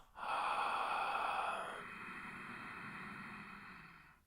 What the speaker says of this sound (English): So you're going to inhale through the mouth.